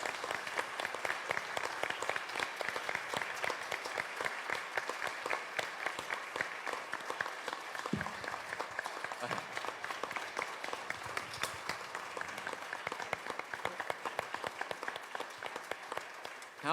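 A church congregation applauds in a steady, dense patter of many hands that holds for over fifteen seconds, soft and somewhat distant, with no talk on top.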